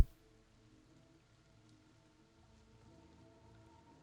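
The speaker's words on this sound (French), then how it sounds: "Une soudaine averse se met à tomber." Steady, faint rain hiss from a sudden shower, a soft even wash of falling drops with no voices and no distinct thunder, holding at a low level throughout.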